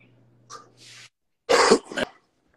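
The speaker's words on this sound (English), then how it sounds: "you need to cover your mouth when you coughing like that" A single person coughs and clears their throat: a faint short rasp first, then one loud harsh cough burst followed by a smaller one, close and alone in a quiet room.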